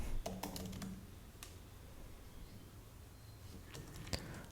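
Rapid, light keystrokes on a computer keyboard come in quick bursts, then pause, with a few isolated taps later; close and fairly quiet.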